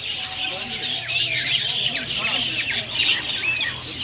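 Small birds in a bird shop chirp and tweet in quick, overlapping high calls, a dense continuous chatter of several birds at close range with occasional squawks.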